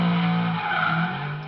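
Drift car tires skidding at high angle and speed in the drift attack zone of a KOE drift competition round in Spain, a loud continuous screech with engine drone beneath, steady for under two seconds.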